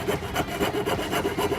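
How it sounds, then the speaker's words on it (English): A small hand tool saws through the hood of a model car, making close, brisk back-and-forth rasping strokes in a steady rhythm, with no voices. "we're going to cut this whole section of hood off."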